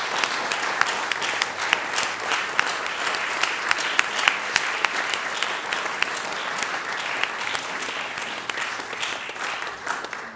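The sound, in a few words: audience applause for musicians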